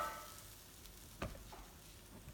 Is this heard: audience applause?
no